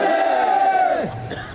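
A large crowd at a Korean rally over the medical crisis roars a long, loud unified battle cry, the sustained shout holding strong before trailing off into scattered voices.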